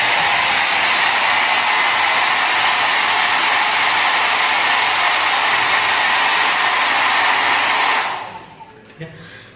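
A budget 300-rupee hair dryer from Dmart blowing air: a loud, constant close-up whoosh for about eight seconds, then it winds down and cuts off.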